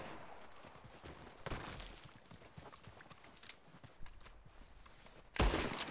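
Gunfire in a Red Dead Redemption 2 train-robbery shootout, with scattered sharp shots at moderate distance and one loud close blast near the end, over a busy ambient background.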